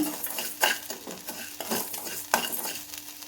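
Lentil powder mix dry-roasting in a pan for Andhra-style paruppu podi gives a soft sizzle as the moisture cooks off, cut by repeated scraping and stirring strokes of a spoon against the pan.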